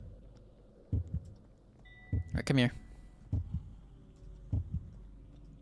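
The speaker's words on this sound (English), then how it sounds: "My heartbeat is getting a little fast" Heartbeat effect from the Minecraft Decked Out dungeon, a steady double-thump pulse repeating about once a second, loud and close, with a brief voice speaking over it midway.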